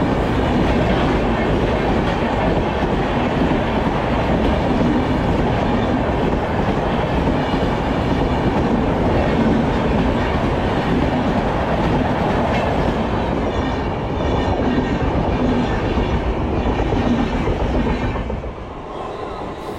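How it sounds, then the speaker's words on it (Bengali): Train 12274, the New Delhi to Howrah Duronto Express, rolling past a station, a loud sustained roar of wheels and carriages with rhythmic clatter over rail joints, close and continuous before easing slightly at the end. "স্ক্রিনের বাঁ দিকে রয়েছে ট্রেন নম্বর 12274 নিউ দিল্লি থেকে হাওড়াগামী দুরন্ত এক্সপ্রেস"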